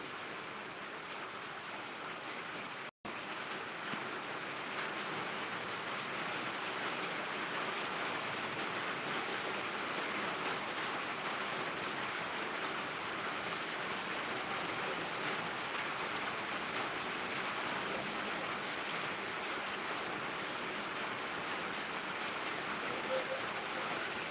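Rain falls in Anantapur district as an even, unbroken hiss that holds at a moderate level throughout, briefly cutting out once early on, with no speech.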